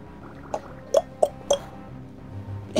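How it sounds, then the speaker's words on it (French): Water Gun attack in a French-language playthrough of a Pokémon game: a few short wet, squishy dripping blips in an uneven sequence, moderately loud over a soft game-music bed. "Pacifique, pistolet à eau."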